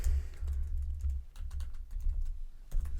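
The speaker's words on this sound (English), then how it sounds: "it's pretty easy for you to type these in" Rapid clicking keystrokes on a computer keyboard, steady and close, continuing throughout with no talking.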